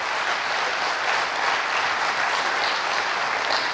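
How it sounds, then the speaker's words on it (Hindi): An audience at a spiritual talk claps continuously, with dense, even applause filling the whole stretch and no voices on top. "अपने लिए ताली बजा लो।"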